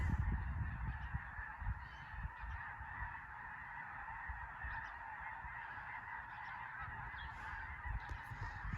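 Geese honk steadily near a farm pond, their calls layered into a continuous chorus over a heavy low rumble, with no voices.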